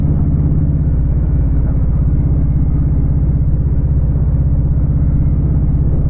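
Harley-Davidson Sport Glide motorcycle with 6-inch pull-back risers cruising on the road, its engine a loud, steady, deep pulsing rumble that holds constant throughout with no speech.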